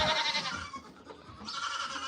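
Farm goats bleating in a close, continuous chorus, with overlapping wavering cries that dip briefly midway before swelling again.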